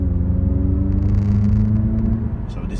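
An Audi Q3 with a 1.5 liter four-cylinder e-hybrid engine idling, a steady low droning hum and rumble close by, even and unchanging for a few seconds.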